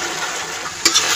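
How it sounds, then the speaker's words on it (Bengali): Spiced masala water is poured into sizzling masala for a duck curry, a steady close frying hiss with a sharper splash-like burst near the end. "এবারে মশলা দেওয়া জলটাও দিয়ে দিলাম।"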